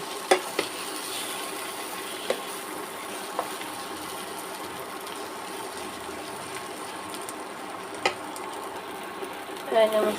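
A spoon works through a snakehead fish mash with mustard oil in a hot pan, producing a steady low sizzle and scraping with a few sharp clicks scattered through it and a louder clatter near the end.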